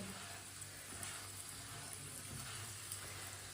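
A paratha cooks in oil on a griddle over lowered heat, making a quiet, even sizzle that holds steady throughout with faint crackles.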